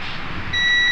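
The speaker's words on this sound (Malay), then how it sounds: "Dengar bip." A multimeter continuity beep sounds on an automotive ground check of a Toyota Avanza: a steady electronic tone comes in about halfway through and holds to the end over a light background hiss, with no talking.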